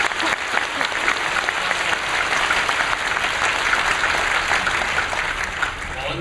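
A church congregation applauds to welcome visitors from another church, steady close clapping from many hands filling several seconds with no speech over it.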